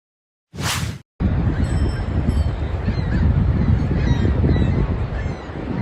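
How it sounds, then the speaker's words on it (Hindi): Geese honking near Niagara Falls during a total solar eclipse, a restless flock heard as a continuous, fairly loud chorus of honks over steady wind and background noise after a brief opening burst. "क्या ये पक्षी कुछ बेचैन है?"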